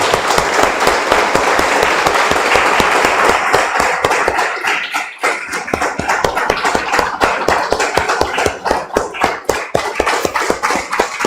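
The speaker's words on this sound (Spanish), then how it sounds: "Damos un aplauso, hermanos, al Señor." A church congregation applauds loudly and steadily with dense, continuous clapping that briefly dips midway and then resumes at full strength, with no one speaking.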